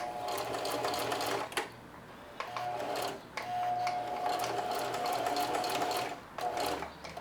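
A sewing machine back tacks along apron straps in several short bursts of rapid stitching, close and clear, with brief pauses between runs.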